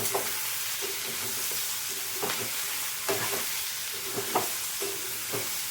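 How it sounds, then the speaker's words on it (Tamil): Turmeric-spiced mixture sautéing in a pan throws off a constant close sizzle, broken by the regular scrape and tap of a stirring spoon, with no voices. "நல்லா வதக்கணும் மஞ்சள் தூள் மட்டும் போட்டு வதக்குங்க"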